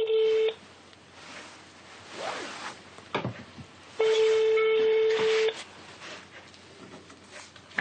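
Telephone call being placed, with bursts of dialing tones and ring signals at the start and middle, separated by quieter handling noise and faint background sounds.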